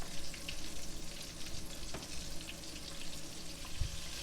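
Small cajun-seasoned chicken pieces on sticks frying in a shallow pan of hot oil, a steady close crackling sizzle with scattered pops running throughout, no voices.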